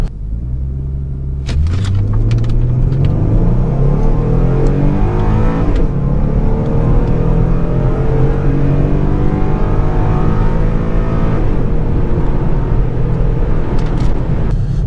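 A 2014 Ford Mustang with the 3.7-liter V6 and a new aftermarket exhaust, heard from inside the car, barks awake and then pulls hard through the revs, a loud, rising engine drone climbing steadily in pitch with a brief shift near the middle.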